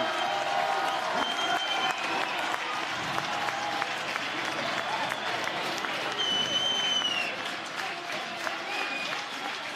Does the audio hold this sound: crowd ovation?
yes